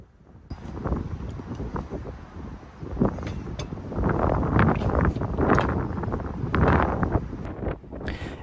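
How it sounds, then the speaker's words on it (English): Strong gusts of wind roar across a flat rooftop during a solar panel installation, a continuous rushing buffet that swells and surges in waves, loud and close on the microphone with no speech. "And as you can see, it was a really windy day."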